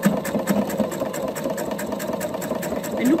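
Sewing machine darning through a glued-on cotton patch ironed over a hole in jeans, a close, fast, rhythmic mechanical chatter with the needle punching steadily through the stiff glue.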